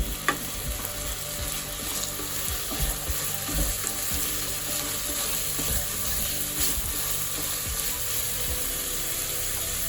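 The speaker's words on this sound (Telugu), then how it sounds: "కొద్దిగా గోల్డెన్ కలర్లోకి వచ్చేదాకా ఫ్రై చేసుకోవాలి ఫ్లేమ్ అనేది మనము గ్యాస్ మీడియంలో పెట్టుకొని ఫ్రై చేసుకుంది" Onions frying on a medium gas flame for a drumstick tomato curry, a continuous close sizzle with faint stirring scrapes throughout and no speech.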